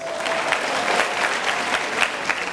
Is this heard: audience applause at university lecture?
yes